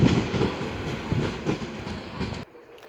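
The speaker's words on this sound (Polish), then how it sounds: "tam kolejny kolej mazowiecki jedzie." Koleje Mazowieckie commuter train rolling through Warszawa Wschodnia station, close rhythmic clickety-clack of wheels over rail joints in regular bursts, cutting off abruptly near the end.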